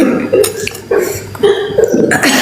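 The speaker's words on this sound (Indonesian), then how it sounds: "Aduh, batuk." A person coughs several times in a row, harsh, throaty bursts close up with brief pauses between them.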